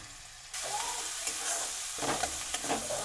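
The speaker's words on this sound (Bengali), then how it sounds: "মশলাটা হালকা কষে নেওয়া হয়ে গেছে" Spice paste stir-fried in a pan at home with water added, a steady close sizzle and hiss with scraping stirs of the spatula running throughout after a sudden start.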